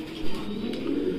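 A Yellow Sirazi pigeon gives a short, close, throaty coo over a steady low background hum.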